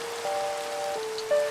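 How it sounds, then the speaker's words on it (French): Rain falls in a horror video game as a steady, even hiss, with faint tonal ambient hums layered over it and a slight swell near the end. "Il pleut."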